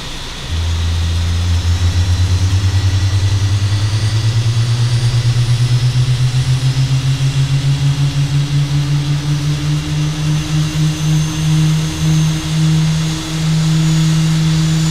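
AH-64D Apache Longbow helicopter in Arma 3 spooling up its rotors at startup: a loud, steady low turbine drone rising gradually in pitch over the whole stretch, with no talking.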